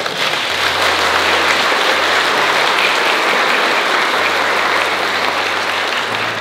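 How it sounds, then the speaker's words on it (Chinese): Audience applause for President Tsai Ing-wen at a farewell gathering of her staff, a dense, loud, sustained clapping from a large crowd filling the whole stretch. "我们先以最热烈的掌声向总统表达感谢。"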